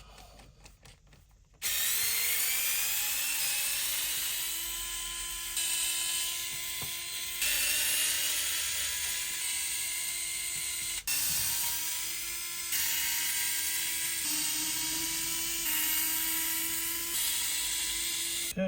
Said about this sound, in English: I'm going to take all of these screws out